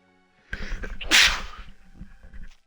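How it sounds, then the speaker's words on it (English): One loud, sharp sneeze bursts out about midway, with a quick breathy intake before it and some low rustling and movement noise after, from a single person nearby. "Hang on, I gotta sneeze."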